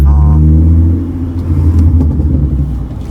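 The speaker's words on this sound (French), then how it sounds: "Ah le son de sa caisse est quand même une dinguerie." A BMW E30's engine rumbles loudly up close, with a brief rising rev at the start that settles into a steady, deep idle-like drone.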